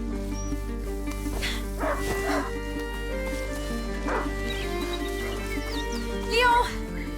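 A hunting dog barks a few times in the video game A Plague Tale: Innocence, with short yips set against a steady bed of sustained game music and ambience.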